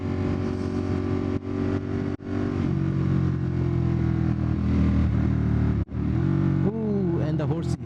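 A motorcycle engine runs loud and close with a steady drone, then revs and accelerates with rising pitch near the end as voices are heard.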